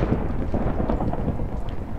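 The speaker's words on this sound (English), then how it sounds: "lightning hit something and that is terrifying" Rolling thunder from a lightning strike at night in a Minecraft-style game, a steady low rumble with rain-like hiss sustained throughout, fairly loud and alone.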